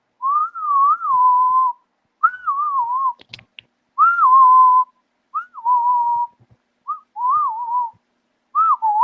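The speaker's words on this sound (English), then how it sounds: "Stop fucking whistling." A person whistles a wavering tune in short phrases with brief pauses between them, clear and close, with almost nothing else around.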